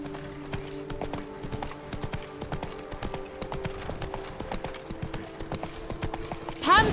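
Hooves of Roach, the horse in The Witcher 3, clip-clop in a steady rhythm at close range under a constant low ambient hum, with a brief louder burst right at the end.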